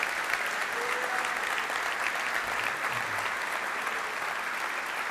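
A church congregation applauds in a strong, steady burst of clapping that fills the room and holds at an even level from start to finish, with no talk over it.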